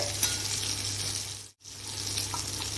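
Tomato gravy sizzles and fries in a pan for Madurai-style egg masala, a steady close hiss with a brief gap midway and no talking.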